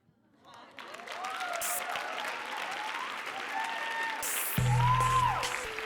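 Audience applause fills a youth poetry slam finals hall, a steady broadband wash of many hands clapping that builds quickly and holds loud, with scattered voices and whoops riding on top.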